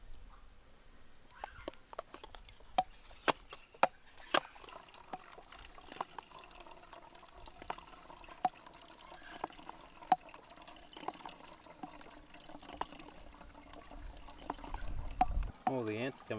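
Water poured through a rinsed carbon filter at a remote 4x4 bush camp on the Eyre Peninsula, trickling and dripping with scattered small clicks and taps, quiet and close, with a louder splashing surge near the end.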